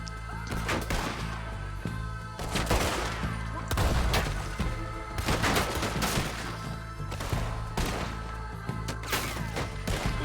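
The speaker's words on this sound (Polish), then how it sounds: "Co tam tak wybucha?" Repeated explosions and bursts of gunfire from a shootout in the video game Red Dead Redemption 2, loud booms and crackling shots recurring throughout, dense and close with no talk over them.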